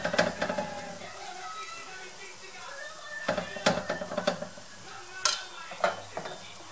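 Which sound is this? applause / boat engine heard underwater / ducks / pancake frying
pancake frying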